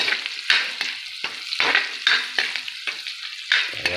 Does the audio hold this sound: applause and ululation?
no